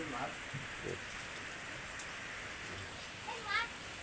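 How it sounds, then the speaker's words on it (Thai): Steady rain hisses on surfaces throughout, with a brief high chirp near the end and faint voices in the background. "ตอนนี้ฝนตกครับ"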